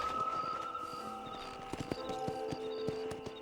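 Horse hooves clip-clop at a walking pace in the Western video game Red Dead Redemption, a quiet irregular series of hoof hits over soft ambient music with no voices.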